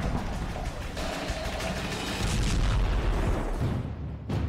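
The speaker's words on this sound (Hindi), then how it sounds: "जब 22 किलो के वॉरहेड में धमाका होता है तो देखिए कितनी बड़ी तबाही होती है।" A 155 mm Excalibur artillery shell with a 22 kg warhead detonates in a sustained, roaring boom with heavy low rumble and dense broadband debris noise throughout, loud and continuous with no voices.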